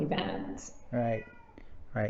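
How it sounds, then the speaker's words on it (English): A pet cat meows repeatedly, three or four insistent, fairly loud calls close to the microphone, interleaved with a person talking indoors. "Sorry, that's our cat."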